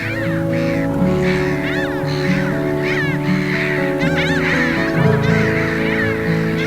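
A big flock of geese at Chichester Harbour honks continuously, many overlapping calls near and far forming a loud, busy chorus with a low hum beneath.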